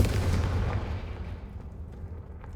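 A Confringo fire spell from the video game Hogwarts Legacy bursts in a deep, loud boom that rumbles and slowly fades over a couple of seconds.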